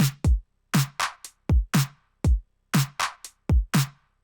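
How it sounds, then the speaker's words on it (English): A programmed drum stem loops steadily with punchy kicks, snappy snare and clap hits, and crisp hi-hat ticks in a tight, evenly spaced groove, loud and dry with no other sound. "It's a kick, a snare, and a clap, and a hi-hat."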